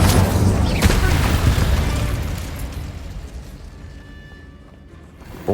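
Fire and blast spells burst in a Hogwarts Legacy fight on PS5, loud booming explosions at the start that roll into a long crackling, rumbling decay which slowly fades away.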